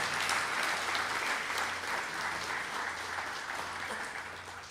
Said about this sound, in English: So congratulations, and give yourselves a round of applause.